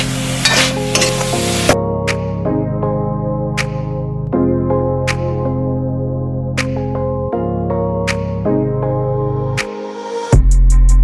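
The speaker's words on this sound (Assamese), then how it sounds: "এইফালে মই নাৰিকল ভাজি আছোঁ" Grated coconut frying and being stirred in a pan for laddoos: a steady sizzle with repeated scraping strokes, close and fairly loud throughout, no voices.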